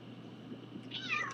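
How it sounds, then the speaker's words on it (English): A house cat gives a single short, faint meow indoors over a low steady background hum, with no one speaking. "And there goes the cat again."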